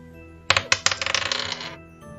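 Tabletop role-playing dice clatter onto a table: a few sharp separate strikes, then a quick rattling run of bounces that fades out within about a second and a half.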